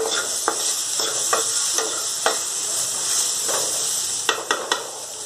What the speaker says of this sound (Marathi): थोडंसं काळं तिखट थोडंसं मीठ टाकून हे हलवून घेऊयात